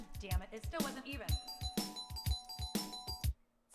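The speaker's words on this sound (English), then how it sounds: "Sounds like a broken doorbell." A broken-sounding doorbell rings in a series of tinny electronic chimes with rhythmic thumping beneath, fairly loud and close, then cuts off abruptly near the end.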